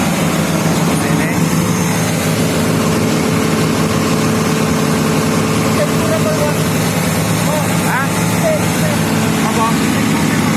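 A Komatsu excavator engine idles at a steady, loud, continuous drone throughout, with voices talking over it at times.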